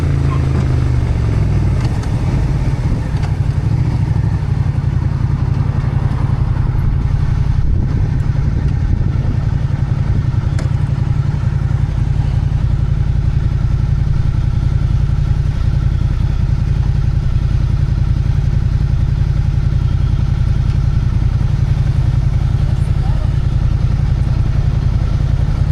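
A motorcycle riding on the road, its engine droning loud and steady with a constant low rumble and some rattling clatter for the whole stretch, recorded close up.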